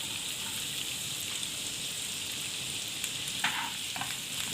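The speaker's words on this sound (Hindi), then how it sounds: "हाफ प्याज डाल देंगे" Half an onion with ginger sizzling steadily in hot oil in a pan, a constant close frying hiss with a few brief stirring clicks near the end.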